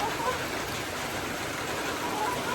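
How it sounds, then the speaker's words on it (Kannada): Steady rain falls outside a home during a wet spell, a continuous even hiss with no breaks. "ಮಳೆ ಬರ್ತಾನೇ ಇದೆ"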